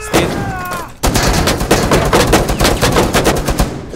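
Rapid automatic gunfire in Rainbow Six Siege, a loud sustained burst of closely spaced shots after a brief pause, with little talk.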